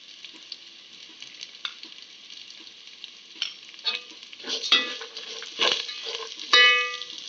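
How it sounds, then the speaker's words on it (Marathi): Mustard seeds and cumin hit hot oil in a pan for a spiced snack, crackling and popping in scattered bursts over a constant sizzle, growing louder and busier toward the end. "मिरची भाजून झाल्यानंतर 1 चमचा मोहरी आणि 1 चमचा जिरे घालूया."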